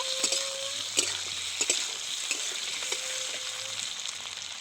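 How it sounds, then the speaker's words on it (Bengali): Potato pieces stirred and fried in hot oil for Bengali egg posto, a steady close sizzle broken by frequent scraping and clicking from the spatula against the pan. "আলুটাও আমি নেড়ে চেড়ে ভেজে নেব।"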